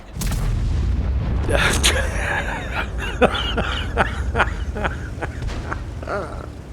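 A KV-2's 152mm howitzer fires in the World of Tanks video game, a heavy booming shot rising out of steady battle noise, followed by a few sharper impacts and thuds.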